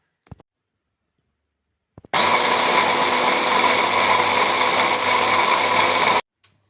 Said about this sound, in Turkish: Şimdi güzelce domates biberlerimizi çektik ya rondoda.